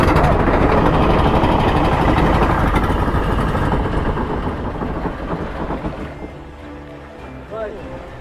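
A motor boat with two engines, one of them broken down, roars loudly and steadily on the sea route from Baler to Dingalan in Aurora, easing slightly toward the end, with a brief voice near the close.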